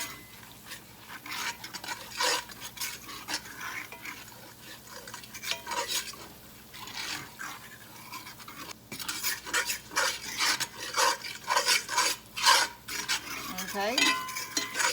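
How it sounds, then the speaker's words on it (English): A fork scrapes and rasps repeatedly across a skillet while flour is stirred for gravy, making continuous metallic scratching strokes with a faint sizzle beneath; moderately quiet and close, growing busier in the second half, with no talking. "I know that fork sounds awful on that skillet"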